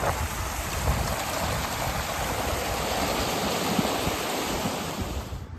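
Stream and waterfall water in the Maharashtra countryside on a rainy day: a dense, continuous rushing roar of flowing and falling water, loud and steady from start to finish with no voices.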